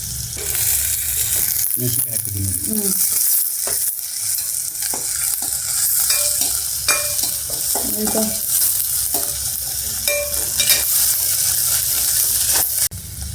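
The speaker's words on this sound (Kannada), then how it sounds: "ಉಳ್ಳಾಗಡ್ಡೆ ಎಲ್ಲ ಚೆನ್ನಾಗಿ ಫ್ರೈ ಮಾಡ್ಕೋಬೇಕು" Onions frying in oil in a pan over a low flame for a dill-leaf palya, a loud steady sizzle with repeated scraping stirs of a spatula throughout.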